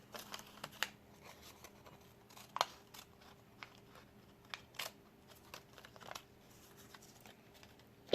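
Scissors snip through paper while cutting rose petals, a quiet series of short crisp clicks and crinkles spaced irregularly, with a steady faint hum underneath.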